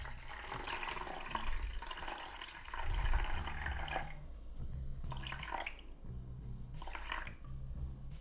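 Water runs steadily into a bowl for several seconds, then comes in shorter pours with brief pauses, close by with a low hollow splash underneath, while measuring for sourdough bread.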